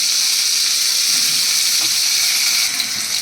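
Cumin, ginger and chilli paste sizzling in a hot pan for a vegetarian curd pointed-gourd curry, a loud, steady hiss and crackle running throughout, close up with no talk.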